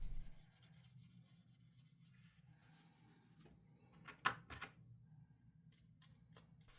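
Dried-out thermal paste flaking and scraping off the heatsink of a 2008 MacBook, a quiet close-up rubbing and scratching with one sharp click midway.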